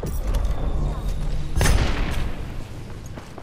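A charge rifle fires in a video game, giving a heavy booming blast with a sharp crack near the middle over ongoing game noise. Voices talk around it.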